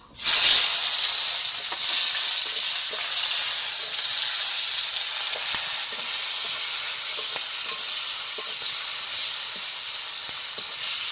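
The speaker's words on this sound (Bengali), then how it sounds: "ভালো করে এটা ভেজে নেবো টমেটোটা সিদ্ধ হওয়া পর্যন্ত দিয়ে দেবো" Tomato, a dried red chili and green chilies frying in oil in a pan; a steady, loud sizzle and hiss runs throughout, close up, with no talking.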